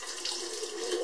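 Tap water runs steadily into a sink for rinsing a face, a close, continuous splashing rush with no pauses.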